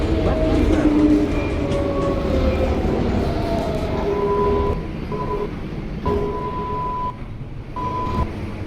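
A New York subway 4 train at Sutter Avenue–Rutland Road station rumbles steadily, with a repeating electronic door chime and tonal beeps over the rolling rail noise, fairly close.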